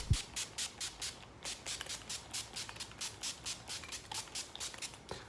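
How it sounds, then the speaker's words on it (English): A quick series of short, hissing bursts of matte finish setting spray in a steady rhythm, close and fairly quiet, with no talking. "NYX matte finish spray."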